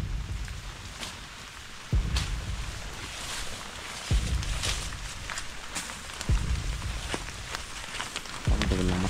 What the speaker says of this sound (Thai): ฝนตกตั้งแต่เช้านะครับตั้งแต่เมื่อคืนนะครับยันตอนนี้ยังไม่หยุดเลย